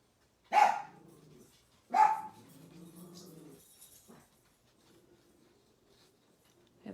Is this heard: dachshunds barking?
yes